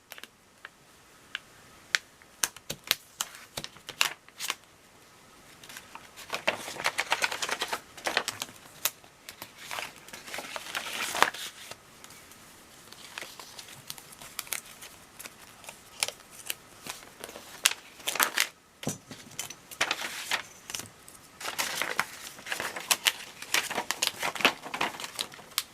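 Scissors snip through planner sticker paper in close, crisp bursts of cutting and rustling, with short pauses between runs of strokes and no talking.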